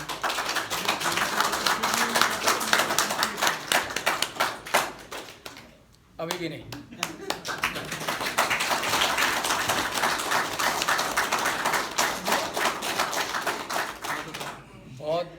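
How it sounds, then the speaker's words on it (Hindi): A crowd claps hands in a health exercise, giving a dense, fast patter of claps that pauses briefly midway and then resumes at full pace, with a voice speaking at one point. "ताली कैसे बजानी है?"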